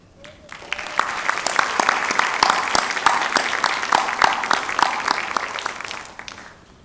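Crowd applause at an MLK celebration and day of service event, welcoming a middle school student to the stage: dense, steady clapping that swells quickly, holds for about six seconds, then tapers off.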